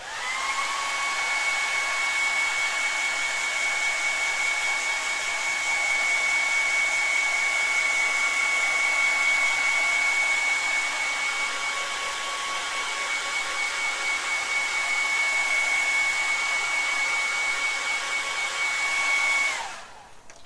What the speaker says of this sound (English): one more blast with the hairdryer